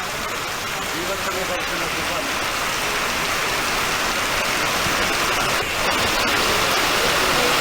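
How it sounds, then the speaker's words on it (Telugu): Heavy rain pours down across Hyderabad during a downpour that has flooded low-lying areas, a dense, unbroken roar of falling water that stays loud and even throughout. "హైదరాబాద్లో భారీ వర్షం కురుస్తున్నటువంటి ప్రస్తుత పరిస్థితి ఉంది"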